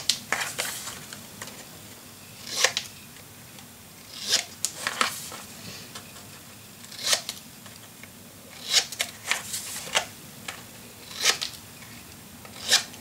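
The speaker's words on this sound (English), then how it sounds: "Now, next thing, we cut the corners." Cutting the corners of a craft memory box kit, likely with scissors: a series of short, crisp snips and scraping cuts in irregular bursts, close and moderately loud, with no talking.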